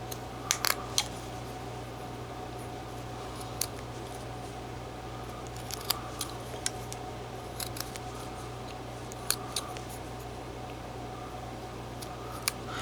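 A knife whittling a small figure from a block of wood, producing scattered short scraping and clicking cuts over a steady low hum, close but faint, with no talking.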